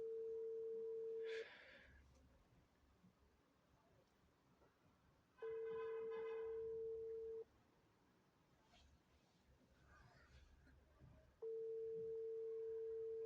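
A WhatsApp call ringing tone plays as a steady beep in three evenly spaced bursts of about two seconds each, with quiet gaps and faint background noise between them.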